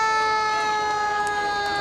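Emergency vehicle siren at a small-town July 4th parade, a loud, steady wailing tone that holds throughout with no talking.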